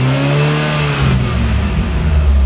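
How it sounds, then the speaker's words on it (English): A car engine revving up while a fuel pump's current draw is being tested: a loud, close, rising mid-pitched engine roar that climbs and holds steady with a whirring tone, no talking. "I wonder if it changes if I rev the engine up."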